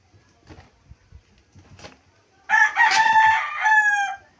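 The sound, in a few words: chickens clucking and rooster crowing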